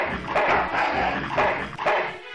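Dogs barking repeatedly in the adventure game Full Throttle, a rapid series of loud, close yaps and woofs over game background sound.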